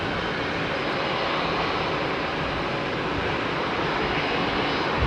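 A jet airliner at London Heathrow Airport roars steadily and loudly, a broad, unbroken engine rumble with no voices.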